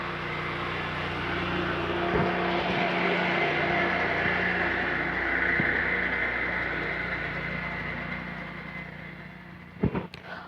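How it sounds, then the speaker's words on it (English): A lawnmower drones steadily in the background, its engine hum swelling and fading slightly as it passes by, with a couple of brief knocks near the end; no one speaks. "That was the lawnmower man."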